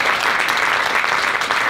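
An audience at a teen theatre performance applauds steadily and densely, a continuous wash of clapping throughout with no voices over it.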